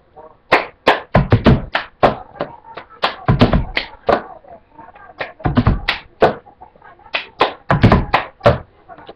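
Cup song from Pitch Perfect played as a rhythmic pattern of hand claps and cup taps and thumps on a table, steady repeating bursts of close percussive hits over about nine seconds with no talking.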